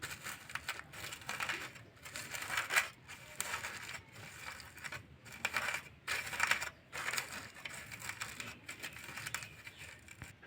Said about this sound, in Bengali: আর এই তেল দিয়ে আমি আলুটা মেখে নেব।